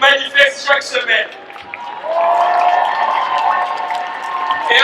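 A crowd at a rally for an immediate ceasefire breaks into sustained applause after a speaker's call, steady clapping that continues to the end with voices before it.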